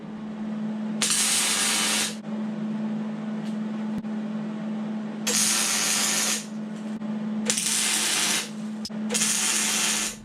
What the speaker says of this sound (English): we are good to go ahead and tack up our steering